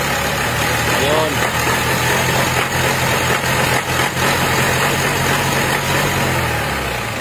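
The 4N15 MIVEC diesel engine of a Mitsubishi Strada, which is down on power and smoking heavily, rumbles loudly and steadily up close as it is revved. The engine noise continues for the whole stretch, with no break.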